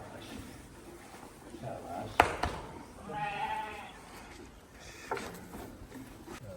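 Goats in a farm pen, a new buck among them, eat fodder from a trough. One faint bleat rises over quiet chewing and clatter, with muffled voices in the background.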